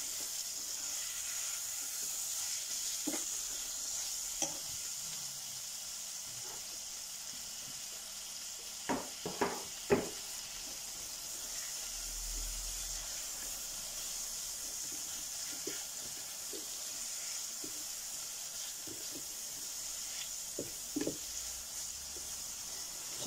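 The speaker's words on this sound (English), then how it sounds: "So we're going to fry this onion off." Chopped onion frying in a pan for chilli con carne, a faint steady sizzle with occasional soft clicks and knocks of stirring, quiet and continuous.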